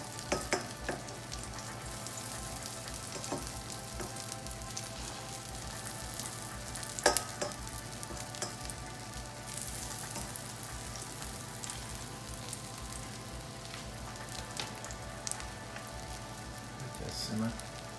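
Eggs folded over with a couple of cheese slices sizzle in a frying pan, a continuous crackling fry with scattered pops and occasional utensil clicks, fairly close and steady throughout.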